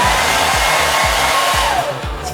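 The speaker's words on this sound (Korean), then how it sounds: "잘 흡수시켰다면은 드라이기로 건조." A hair dryer blows hot air onto fabric treated with a pretreatment solution in a fashion design equipment room, a loud, steady whooshing roar with a slight pulsing throughout and no talk.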